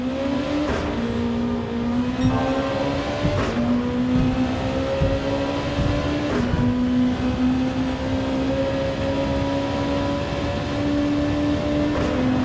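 Amuse S2000 with an engine swap driven in Gran Turismo 7, its engine droning loud and steady with rising pitch through the gears and brief drops at each shift, no talk over it.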